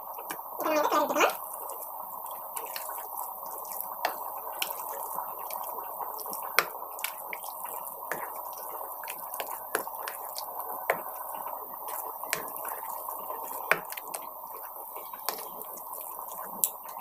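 Sugar syrup for sakkarai pongal is strained and poured into a pot, producing a soft continuous liquid trickle with scattered small drips and splashes, close and fairly quiet.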